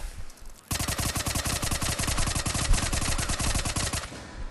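A Tempest gun in Mass Effect 3 fires one long rapid-fire burst, a dense stream of loud, evenly spaced shots lasting several seconds before stopping abruptly.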